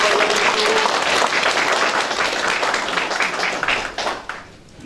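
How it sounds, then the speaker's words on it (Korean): Audience applause at a Yangpyeong county community forum event in Yangdong-myeon, a dense sustained burst of clapping from a hall crowd that holds steady and then tapers off toward the end. "격려의 박수 부탁드립니다."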